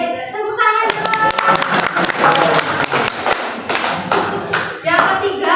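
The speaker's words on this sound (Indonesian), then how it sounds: "Oke, tepuk tangan dong." A burst of clapping from a small classroom group, quick irregular claps over a few seconds, with voices talking and calling out over them.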